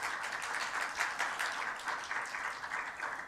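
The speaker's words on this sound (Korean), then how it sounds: "네, 박수로 환영하겠습니다" Church audience at a Sunday young adults' worship service claps continuously to welcome a new staff member, a dense, steady round of applause close by with no speech.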